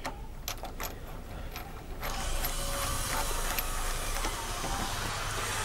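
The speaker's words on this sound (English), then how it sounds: "Get your Allen key ready. Lift the brake lever up. Put your first screw in." Allen key turning a new screw into the front brake lever of a Kawasaki ZXR750 H1, a few light clicks at first, then a steady ratcheting hiss that runs to the end, close up and fairly quiet.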